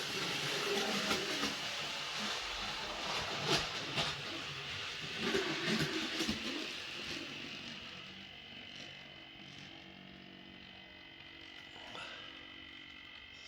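A No. 76 train rumbles along the track with faint clicks over joints and bumps, steady at first, then fading into a quieter hum as it eases off.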